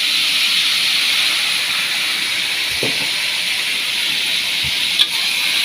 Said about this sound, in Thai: เราก็ผัด